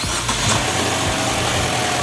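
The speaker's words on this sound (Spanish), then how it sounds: "el técnico Sánchez, que encienda el vehículo" A Chevrolet Sonic with a misfire fault running in a workshop, its engine producing a dense, continuous rumble right from the start, with slight unevenness and a few vibration thumps, close and loud with no voices.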